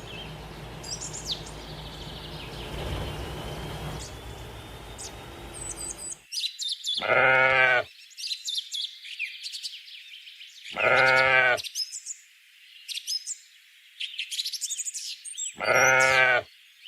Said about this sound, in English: Con cừu. Sheep. Sheep.